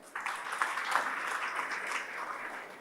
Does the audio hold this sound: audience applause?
yes